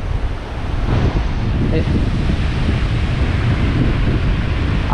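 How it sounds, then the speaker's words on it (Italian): Strong scirocco wind roars across a beach, a steady loud buffeting rush with rumbling low gusts and the wash of surf underneath, sustained throughout without a break. "Un bel vento di scirocco"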